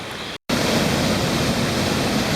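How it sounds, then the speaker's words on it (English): The river in Linville Gorge, North Carolina, roars with steady broadband rushing water noise close by, briefly cut to silence near the start before resuming continuously, with no voices. "The river's roaring pretty nice."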